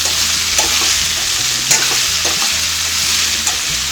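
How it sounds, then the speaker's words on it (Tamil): Boiled raw banana pieces fry in a pan on low-medium heat, a steady close sizzle with rhythmic stirring scrapes and a few sharp spatula knocks. "இப்போ வேக வச்ச காயை நல்லா கிளறி விட்டுக்கலாம்"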